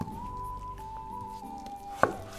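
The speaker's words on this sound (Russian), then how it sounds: "Так как у меня луковицы маленькие, я их нарежу пополам." A knife halves a small onion on a board, a single crisp chop near the end after a quiet stretch, close and fairly soft.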